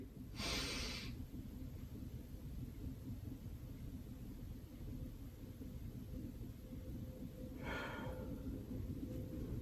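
Two deep breaths, a long inhale near the start and another near the end, sound close and airy over a low background rumble during a spine mobility exercise.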